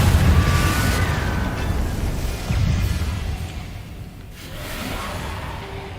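A Confringo fire spell explodes in Hogwarts Legacy, a loud booming blast at the start fading into a rumbling tail, followed by softer whooshing bursts.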